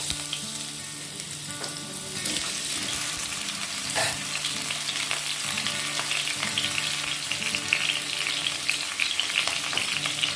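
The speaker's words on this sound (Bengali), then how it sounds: "এবার এতে আলু দিয়ে দেবো।" Potatoes fry in hot oil seasoned with bay leaf and whole cumin, a dense, continuous close-up sizzle with stirring scrapes running through the whole stretch and no voices.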